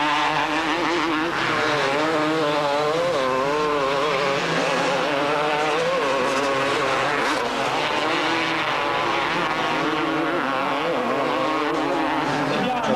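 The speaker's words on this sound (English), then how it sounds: "So Bowley goes on to win the 250 race 2" 250-class motocross motorcycles racing at a 1997 French championship round, engines snarling and revving continuously at full throttle, loud and dense throughout.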